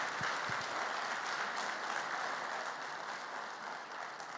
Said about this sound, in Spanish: se merece de todos nosotros un fuerte aplauso